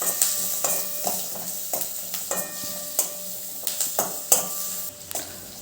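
About fifty grams each of cashews and peeled garlic are roasted in a pan, with a soft sizzle under repeated sharp clinks and scrapes of a spatula stirring against the metal.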